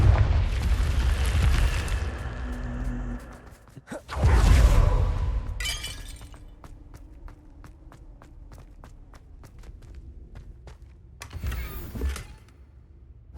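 Confringo blasting curse explosions in the Hogwarts Legacy game: a loud opening blast, a second heavy burst a few seconds later and a fainter blast near the end, with a low hum and sharp ticking in between.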